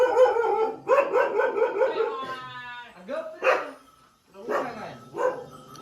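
A dog barking repeatedly near a goat-rearing farm, several sharp barks and yips mixed with whimpering tones, with people talking over and between them.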